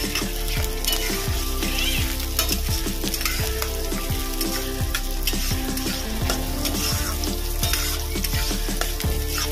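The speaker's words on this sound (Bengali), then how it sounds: "দেব কুচিয়ে রাখা পেঁয়াজ। এটা কয়েক সেকেন্ড ভেজে নেব।" Chopped onion sizzles and fries in a pan while a spoon scrapes and stirs it in a steady, repeated rhythm; loud, close and continuous with no talking, part of cooking a mango and green coconut chilli chicken dish.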